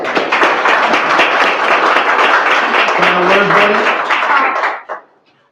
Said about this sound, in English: Applause to all of you guys.